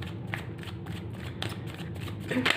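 Tarot cards being shuffled by hand during a reading, a steady soft riffling and sliding of the deck with a few sharper slaps, close and continuous with no talking.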